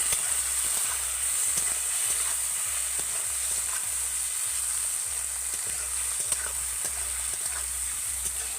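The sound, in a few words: frying chopped onion and tomato in a pan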